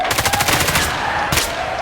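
Rapid automatic gunfire in a shooter video game, a fast rattling burst through the first half followed by a shorter burst, loud and close with no talk over it.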